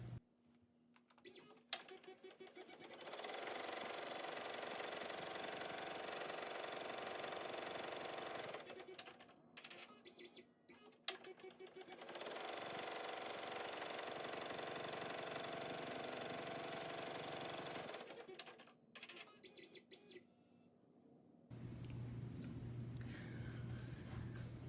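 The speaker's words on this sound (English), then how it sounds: "So next thing we're going to do is stitch the buttonhole." An embroidery machine stitches a buttonhole on a face mask in the hoop, giving two long runs of steady, close mechanical whirring separated by brief pauses, with a quieter low hum near the end.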